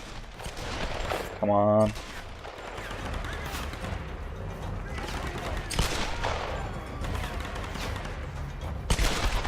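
Gunfire in Tomb Raider Definitive Edition during a combat sequence, with bursts of shots and explosive noise layered over a busy game soundscape, a sharp loud burst near the start and a voice speaking briefly.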